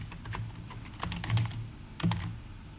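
Someone types code on a computer keyboard: a close, irregular run of clicking keystrokes with a few heavier, louder key presses, and no talking.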